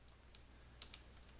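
A few soft, sparse computer keyboard clicks, quiet and close, with short gaps between keystrokes.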